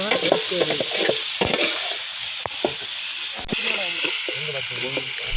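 Onions with ginger garlic paste sizzle and hiss in a pan while a spoon stirs them with occasional sharp scrapes, and voices talk intermittently over the frying.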